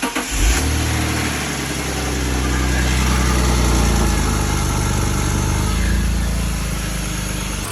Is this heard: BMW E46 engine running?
yes